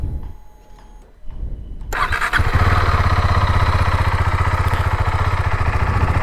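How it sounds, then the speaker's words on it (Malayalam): A KTM Duke 390 with its stock exhaust fires up with a sharp starter whine, then settles into a loud, close, evenly pulsing single-cylinder idle that runs steadily, with no talking. "ഇതാണ് നമുക്ക് സ്റ്റോക്കായിട്ട് ഐഡിയലിൽ എക്സോസ്റ്റ് സൗണ്ടിങ് വരുന്നത് ഇങ്ങനെയാണ് കേട്ടോ"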